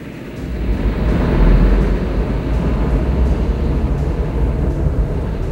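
A Hummer is driven around a pylon course, its engine giving a loud, continuous low rumble with a swell of power early on, while wind buffets the microphone.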